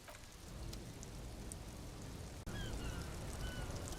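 Steady rain patters and hisses across the whole stretch in Disco Elysium: The Final Cut, with a brief dropout partway and faint chirping tones after it.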